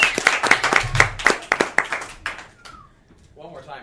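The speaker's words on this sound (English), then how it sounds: "Let's give a round of applause to Layla." A few people clap in a sharp, uneven burst at a student podcast recording, the claps close and distinct, fading out after about two seconds with a voice speaking at the end.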